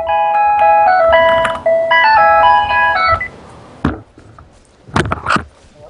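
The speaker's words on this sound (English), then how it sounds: "Doibs, with the best cell phone ringtone of all time, is actually an ice cream truck sound." A cheerful ice cream truck jingle plays as a cell phone ringtone during a Dota 2 match, a loud tinkling melody repeating over about three seconds, followed by a few sharp in-game clicks and thuds.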